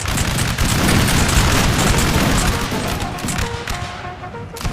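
A massed musket volley in Napoleon: Total War, a loud, dense crackling fusillade of many overlapping shots with booming reports that roll on for several seconds, then thin out and trail away.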